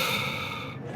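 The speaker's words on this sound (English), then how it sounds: "So take a deep breath" A patient exhales deeply through the nose and mouth during a manual therapy session, one steady airy breath out heard up close, fading slightly toward the end.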